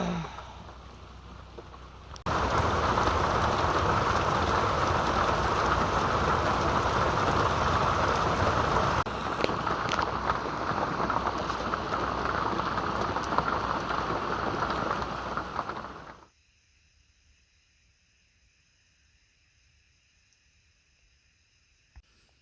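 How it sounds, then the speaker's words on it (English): Heavy rain pounds steadily on an RV roof, a dense, loud roar that runs about fourteen seconds after a softer start, then stops abruptly into near silence with faint tones. "I survived the rainstorm."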